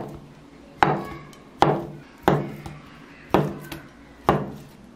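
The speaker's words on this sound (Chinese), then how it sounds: "豆腐切成块" A kitchen knife chops through a block of tofu into cubes, landing six sharp, evenly spaced thuds on a cutting board, each with a short ringing decay, with nothing else in the background.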